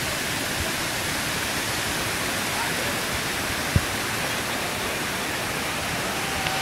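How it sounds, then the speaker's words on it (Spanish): A small waterfall at El Nicho in Villa Clara, Cuba, fills the air with a steady, loud, broadband rush of falling water, continuous and unbroken with no voices. "tenemos una de las pequeñas cascadas del Nicho"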